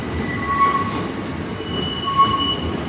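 A Class 800 train, two units coupled together, rumbles at London Paddington station with a steady mechanical drone, and high wheel squeals rise briefly twice over the din.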